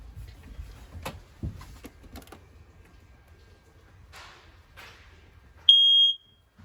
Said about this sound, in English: Lastly would just be your smoke detector